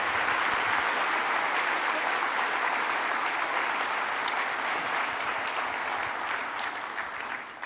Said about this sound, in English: Can we get one more round of applause for the award winners?